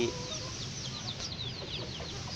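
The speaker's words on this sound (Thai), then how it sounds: "เป็นไก่สองเสียงขันสองจังหวะ" A nearly three-year-old decoy rooster crows faintly in the distance with a two-note, two-beat crow, with other chickens clucking around it in a quiet outdoor setting.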